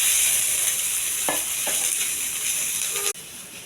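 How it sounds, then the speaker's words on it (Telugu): Steady, loud sizzle of chopped ivy gourd frying in oil in a pan for a chutney, with a couple of faint stirring clinks partway through; the hiss drops abruptly near the end. "కొద్దిగా ఆయిల్ వేయాలండి దొండకాయ ఎగడానికి."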